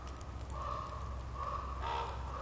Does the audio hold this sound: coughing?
no